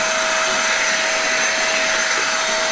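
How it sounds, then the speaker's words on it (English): A vacuum cleaner hoovers the interior of a BMW E46 car, loud and close with a constant high whine and steady rushing airflow, uninterrupted throughout. "Just hoovering the inside of the car"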